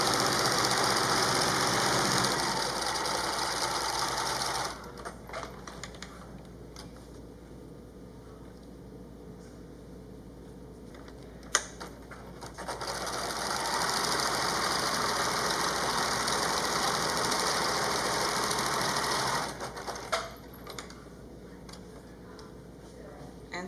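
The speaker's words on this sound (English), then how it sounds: "we're going to sew the top and the bottom" A sewing machine stitches the top and bottom seams of a fabric face mask, its motor running in steady buzzing bursts with short pauses between them, close by in a quiet room.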